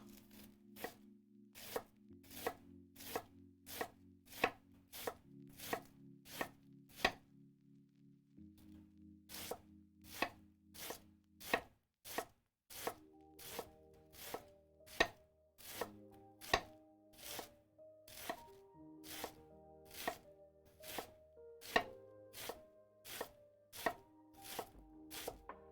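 A knife thinly shreds vegetables for summer rolls on a cutting board, with sharp, evenly spaced chops repeating in a steady rhythm, close and distinct against a quiet background, with no one speaking.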